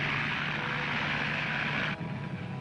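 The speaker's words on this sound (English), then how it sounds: "The float planes took to the sea." Racing float planes with propeller aircraft engines drone loudly and steadily, a broad continuous roar with a low engine hum that drops slightly in intensity near the end as the planes pass.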